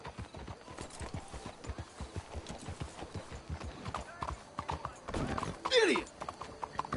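Hooves of several horses clip-clop steadily at a walking pace in the Red Dead Redemption 2 western game, a close rhythmic clatter with a brief whinny near the end, while characters talk over it.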